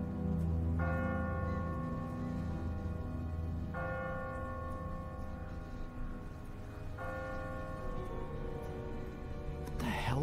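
A church bell tolls three slow, resonant strokes spaced about three seconds apart, each ringing out with a long sustained hum over a low rumbling background.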